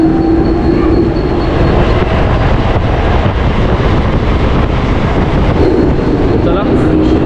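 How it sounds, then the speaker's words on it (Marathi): An express train arrives at Goregaon station at night, rumbling loudly and continuously close by with rattling wagons and wind buffeting the microphone, while people on a crowded platform talk underneath. "तर आपली ट्रेनसुद्धा आली बघा मित्रांनो"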